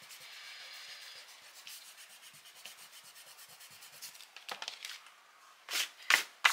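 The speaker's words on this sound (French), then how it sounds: "Je vais gommer ça." Repeated scratchy rubbing of an eraser over paper to remove pencil marks on a scrapbook album page, a steady soft friction that grows louder and more abrupt toward the end with a few sharp strokes.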